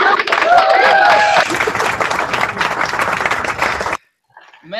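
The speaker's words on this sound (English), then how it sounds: "let's give them a round of applause" Audience applause at a live stage showcase, loud dense clapping with cheers and whistles that stops abruptly, followed by a brief voice.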